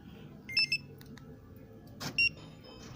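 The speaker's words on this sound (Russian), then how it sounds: "ставим на сигналку." A Starline car alarm being armed, giving two short close chirping beeps about a second and a half apart over faint outdoor background noise.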